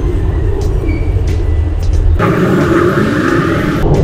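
Heavy road traffic on a busy road beside a service road in Taguig, heard while cycling: a loud, steady rumble of cars and buses with engines revving close by.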